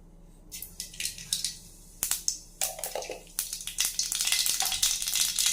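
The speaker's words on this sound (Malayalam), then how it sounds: "അപ്പോൾ ഇതിലേക്ക് കുറച്ച് കടുക് ഇട്ട് കൊടുക്കാം." Mustard seeds splutter and pop in hot oil in a heated pan, a rapid irregular series of sharp crackles that grows denser and more continuous over several seconds, close and fairly quiet.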